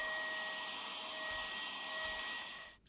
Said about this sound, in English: Give it another little hoover.